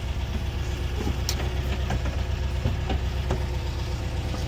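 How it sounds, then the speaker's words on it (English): A camper bus engine idles at about 900 rpm, a steady, loud, low rumble with an even throb and faint mechanical ticks, close by with no talking. "It's running pretty decent overall. Got it set at a 900 idle."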